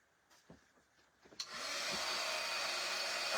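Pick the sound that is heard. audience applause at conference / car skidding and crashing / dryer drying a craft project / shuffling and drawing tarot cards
dryer drying a craft project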